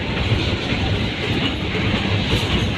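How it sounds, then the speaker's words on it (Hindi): Millat Express passenger train pulling into Lodhran Junction station, heard from inside an old business class coach: a steady loud rumble of wheels and carriage with faint rhythmic clacking, continuous throughout, no talking. "हमारी train lodhra junction railway station पे इंटर हो रही है"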